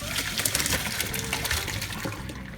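Pasta water poured out into a colander in a kitchen, a steady loud rushing splash of draining water lasting the whole short moment with no talk.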